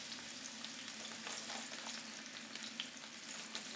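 Chicken cutlets fry in a pan, two regular and one small, giving a steady, faint, even sizzle with no talk.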